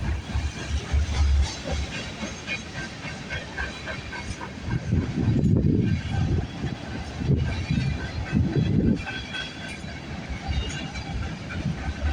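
A CN or CP freight train rumbles steadily past nearby in Milton, Ontario, with a hissing, clattering rail noise, swelling louder a couple of times midway.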